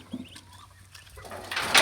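Ducklings being sold as pets give soft, scattered cheeps and peeps at close range, growing busier and louder toward the end.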